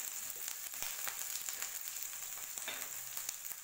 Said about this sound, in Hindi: आप देख सकते हैं कि प्याज और मिर्च हमारा हल्का सा फ्राई हो चुका है